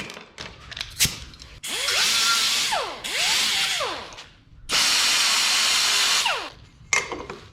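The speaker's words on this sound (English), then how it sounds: "We got a little Scotch-Brite style roll lock on here." Power drill spinning a Scotch-Brite style Roloc disc against metal on an abandoned 1967 Pontiac Firebird, three loud whirring bursts with pitch sweeps as the motor spins up and down, separated by brief pauses and clicks.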